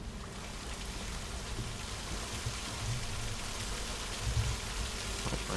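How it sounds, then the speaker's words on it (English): Steady rain in the game A Machine for Pigs hisses continuously, a dense wash of falling drops with a low rumbling undertone, even and unbroken throughout. "I hear rain"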